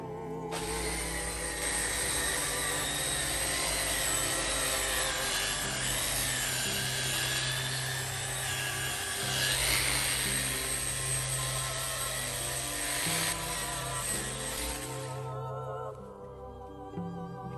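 A power buffer polishing an epoxy resin and burl wood table gives a steady, loud whirring drone with a rough rubbing texture, running continuously for most of the clip before cutting off near the end.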